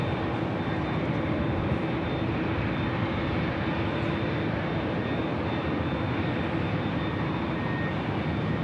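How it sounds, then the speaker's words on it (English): An Aeromexico Boeing 787-8 Dreamliner departs Los Angeles International Airport for Mexico City, a steady broadband jet roar holding at moderate distance throughout, with no voices. "the Aeromexico Dreamliner, 787-8 Dreamliner, heading back to Mexico City"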